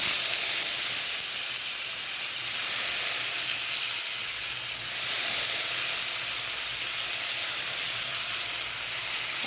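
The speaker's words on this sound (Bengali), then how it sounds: "এবার আমি এই পেঁয়াজটাকে একটু হালকা ফ্রাই করে নেব" Onion frying lightly in a pan of hot oil already used for frying fish and potatoes, with dry and green chillies added: a steady, continuous sizzle and hiss that swells and eases slightly, close by, with no voices.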